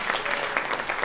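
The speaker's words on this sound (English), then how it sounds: "can we please give a round of applause for our moderator for doing such a great job tonight?" An audience at a candidate forum for a US House district race claps for the moderator, a steady burst of dense applause with many hands patting at once, close and fairly loud.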